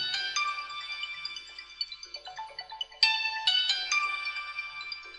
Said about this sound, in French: encore ce foutu téléphone